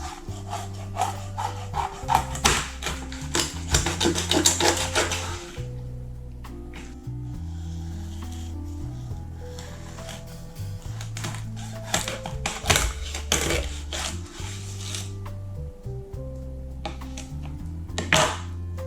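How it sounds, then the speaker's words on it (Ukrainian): A knife saws through a cleaned, washed salmon on a board, cutting it into thick steaks about three centimetres wide, with repeated close rasping strokes, clustered bursts and brief pauses between cuts. "Ось ріжу на такі стейки сантиметра 3."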